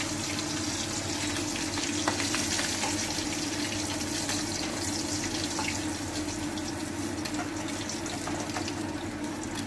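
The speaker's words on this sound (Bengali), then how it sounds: "মাছগুলো ভাজা হয়ে গেছে, এবার তুলে নেব মাছগুলো।" Pieces of fish frying in hot oil in a home kitchen, a dense continuous sizzle and crackle holding steady throughout, close and loud, with a low background hum and no speech.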